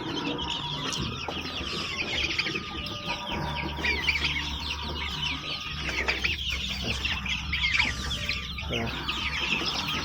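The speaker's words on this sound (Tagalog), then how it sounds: "Ayan sila. 3 days na mga sisiw natin." Three-day-old chicks peep continuously in a brooding pen, a busy chorus of high chirps close by. Low mechanical hum and occasional handling noises run underneath.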